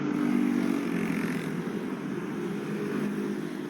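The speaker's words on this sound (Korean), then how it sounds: "그때 여기 현대중공업에서 퇴근하는 오토바이 부대를 발견했어요" Motorcycles of shipyard workers leave Hyundai Heavy Industries at the end of a shift, a dense, steady engine drone from many bikes at moderate distance, rising slightly at first and then holding, with no voices.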